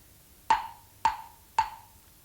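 Wooden claves, one thick stick with a central indentation and a hand cupped around it, struck three times at an even pace, each a bright, resonant, close-up click with a short ringing tail.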